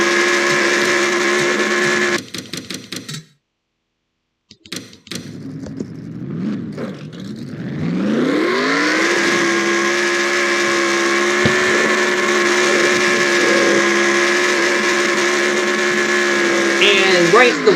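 A race car in NASCAR Racing 2003 does a burnout against the wall, its engine revving loud with a whining, rising tone and sustained roar after a brief dropout.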